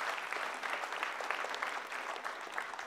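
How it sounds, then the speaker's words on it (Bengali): An audience at an evening stage program claps loudly and continuously, a dense, even patter of many hands sustained without pause. "ওর জন্য একটা জোরে হাততালি আবার প্লিজ"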